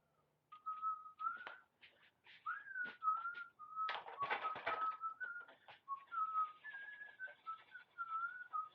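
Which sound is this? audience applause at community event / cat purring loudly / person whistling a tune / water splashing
person whistling a tune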